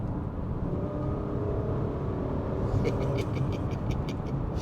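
A Kia Magentis saloon's V6 engine idling with a low, steady rumble, close by, with a few light clicks near the end.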